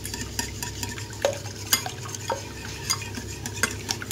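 Quiche filling ingredients with fresh cream being mixed in a bowl, soft wet stirring with irregular light clinks of utensil against the container, close and quiet, no speech.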